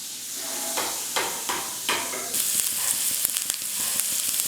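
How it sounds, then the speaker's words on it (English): Chopped onion sizzling in melted butter in a pan, a steady close frying hiss with a few stirring scrapes, no voices. "After butter is melted, we are going to add onion."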